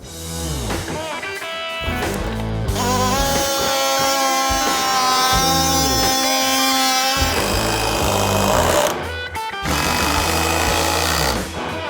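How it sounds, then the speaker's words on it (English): A hydraulic impact driver whirs and rattles in rapid bursts during a kitchen remodel, stopping and starting several times, loud and close, with one long sustained stretch in the middle. "That's what a hydraulic impact hammer sounds like."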